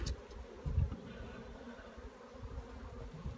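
Faint, steady buzzing of many honeybees crowded inside a hive, a low hum with occasional louder low thumps and no voices.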